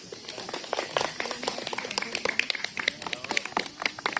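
Scattered clapping in a school room for a student reader at a readathon, a quick patter of many light claps under a background murmur of voices.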